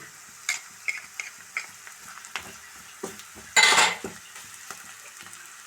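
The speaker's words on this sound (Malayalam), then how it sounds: "നന്നായിട്ട് മിക്സാക്കി കൊടുക്കാം" A spoon stirs coriander powder, fennel powder and garam masala into a cooking mixture in a pot, giving repeated scraping clinks in a steady rhythm, with one louder, longer scrape near the end and no voices.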